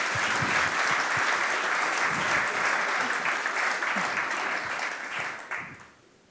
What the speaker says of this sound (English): can we please give a big round of applause for Tessera Crosby